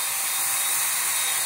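Ryobi handheld power scrubber polisher running steadily, a close, continuous high-pitched whine with no talking.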